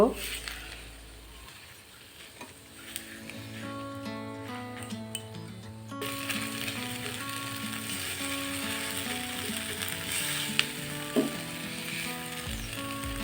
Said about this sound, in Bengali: এখন ভালোভাবে একটু ভেজে নিব